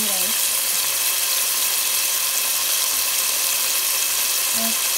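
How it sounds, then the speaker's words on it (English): Tomatoes go into a hot frying pan with onions and garlic, giving a loud, steady, close sizzle that hisses without a break from start to finish. "Now I'm going to add my tomatoes."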